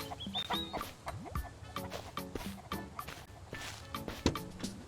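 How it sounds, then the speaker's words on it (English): Chickens in the Mist Survival video game cluck in quick repeated bursts close by, with soft footsteps and light thuds mixed among the calls. "Oh, there's chickens!"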